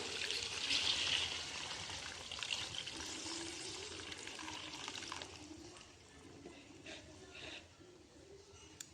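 Water is poured into a simmering chicken and potato curry, a gurgling pour strongest at the start that settles into a softer trickle, with a few faint clinks later.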